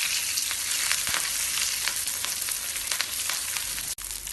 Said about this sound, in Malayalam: ഇനി ഈ മീനെടുത്ത് ചൂടായ എണ്ണയിലേക്കിട്ട് ഫ്രൈ ചെയ്തെടുക്കാം.